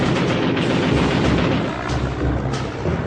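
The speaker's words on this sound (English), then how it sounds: "The Sky Raider's chief assets are its guns. It is armed with 4 M3 20mm cannons." Dense, continuous heavy gunfire like rapid cannon bursts, suggesting a Skyraider attack aircraft firing its four M3 20mm cannons; loud and sustained with no breaks, a roaring wall of shots throughout.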